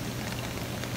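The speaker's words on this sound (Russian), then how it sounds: "вот сегодня наоборот дождик" Light rain falls outdoors as a steady, dense, broadband hiss with a low rumble beneath it and no distinct drops or voices.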